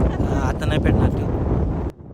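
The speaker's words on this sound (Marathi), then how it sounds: "पाऊस चालू आहे, वारा चालू आहे." Wind gusting across a hillside during rain, heavy buffeting rumble on the microphone with a brief voice mixed in, cutting off abruptly near the end.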